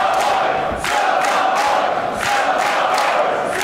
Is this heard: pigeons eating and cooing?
no